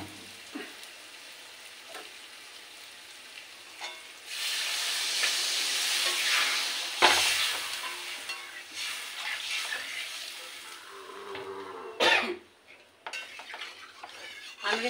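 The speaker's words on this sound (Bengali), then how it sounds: "এবার আমি এতে জল ঢেলে দেবো।" Water pours into an eggplant, prawn and potato curry frying in a pan. A sudden burst of loud sizzling and steam hiss follows, then bubbling and clattering stirring in the pot, with faint speech at moments.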